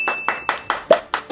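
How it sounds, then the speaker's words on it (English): Hands clap in a steady rhythm, seven sharp claps close up at an even pace with a faint tone lingering behind. "Clap for me."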